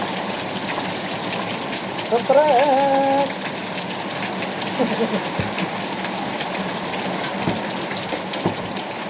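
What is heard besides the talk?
heavy rain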